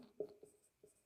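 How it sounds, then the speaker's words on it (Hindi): Pen writing on paper during a chemistry lesson, with a few soft, scratchy strokes close up and quiet, with no talking. "लिखते हैं यहां पे"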